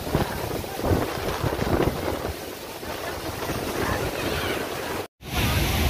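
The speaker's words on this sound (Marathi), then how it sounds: "फुल स्पीडमध्ये हवा इथे वाहत आहे." Strong wind buffets the microphone beside the overflowing outflow of Kalamba Lake in Kolhapur, a loud continuous roar with rushing water mixed in, then a sudden brief dropout near the end.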